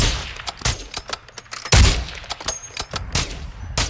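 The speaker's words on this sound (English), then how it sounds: "Mortar strike inbound." Mortar strike explosions in Call of Duty DMZ hit in a dense, rapid barrage, with a heavy boom near the middle amid continuous loud crackling impacts and gunfire-like bursts.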